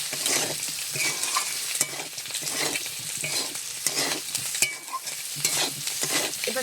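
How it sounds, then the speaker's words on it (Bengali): Potato and pointed gourd sizzle in a pan with chili powder while being stirred, the spatula scraping in irregular strokes over a continuous soft frying hiss, close and fairly quiet with no talk. "লঙ্কার গুঁড়োটা দিয়ে আমি আবারও একটু নেড়ে চেড়ে নিচ্ছি"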